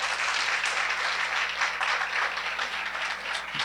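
A church congregation applauds continuously, a dense and steady wash of many hands clapping that fills the room, with no pauses and no clear talk over it.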